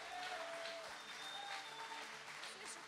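A church congregation applauds at a Wednesday night service, a steady wash of clapping that carries through the whole moment with a few faint voices mixed in.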